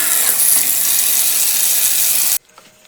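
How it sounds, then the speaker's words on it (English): Steady rushing pour of water into a bucket, loud and continuous for over two seconds, then cutting off abruptly to near silence. "Put some water for making the brine."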